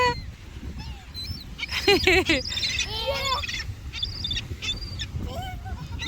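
Seagulls being fed by a family call in a busy cluster of sharp, wavering cries, close and fairly loud over steady outdoor background, with children's and adults' voices mixed in.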